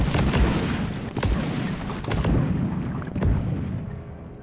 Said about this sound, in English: Oh, more exploding things.